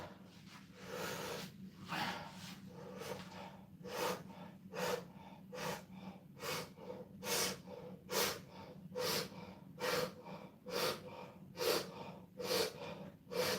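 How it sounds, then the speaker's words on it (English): Heavy, rhythmic breathing after a hard set of exercise reps, with loud, repeated gasping inhales and exhales about once a second, close up and with no talking. "This is performance breathing, meaning I'm oxygenating my blood."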